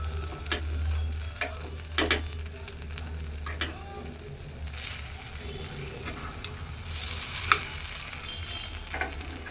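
Masala paddu batter sizzles steadily in a pan over a low flame, a continuous soft crackle with small pops throughout.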